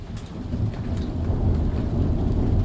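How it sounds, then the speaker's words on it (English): Low, continuous thunder rumbles steadily beneath rain, building slightly in loudness throughout, with no talking. "I don't know if you can hear that thunder"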